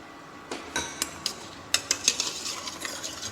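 Spoon stirring a vegetable stew in a pot just after carrots are added, a few sharp scraping clinks against the metal at irregular intervals over a soft background, no talk.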